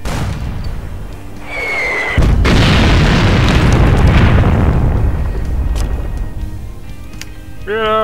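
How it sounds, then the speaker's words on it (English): A loud booming blast from a video game cannon cherry bomb erupts suddenly and rolls into a long, noisy rumble that slowly fades, followed by a brief vocal shout at the end. "Yeah, the cannon cherry bomb."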